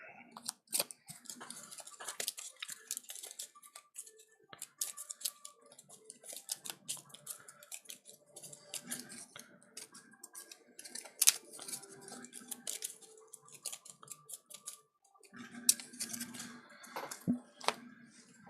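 Marvel Champions cards being shuffled by hand in a loose, clumsy shuffle, producing quiet, irregular rapid clicks and flutters with scattered sharp taps, close by and faint throughout.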